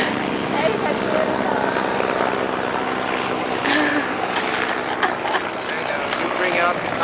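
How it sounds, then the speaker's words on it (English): A helicopter's rotor chop and engine whine fill the scene, loud and continuous as it passes, with people talking underneath. "Here comes Chick's helicopters again"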